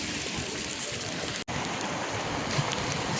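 Steady rain pours in the streets of Verona, Italy, a dense, even hiss of falling water with no break, close and continuous, with no clear speech over it.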